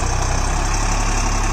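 A Deutz Fahr Agrolux 50 tractor engine runs at a steady idle, a loud, close, continuous diesel rumble with an even throb and no voices.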